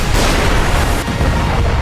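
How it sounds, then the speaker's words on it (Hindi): Russian howitzer artillery fire in a combat zone near Kursk, a loud, heavy boom with a rumbling, sustained roar that fills the short moment. "रूस की आर्टिलरी यूनिट ने होवित्जर से धावा बोलकर यूक्रेन के टैंक और सैन्य वाहन को खत्म कर दिया"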